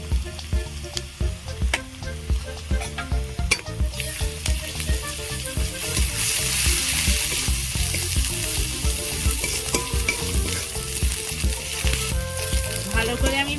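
Chilli, cumin and coriander powders fry in oil for a fish curry, a loud steady sizzle with rhythmic stirring scrapes throughout.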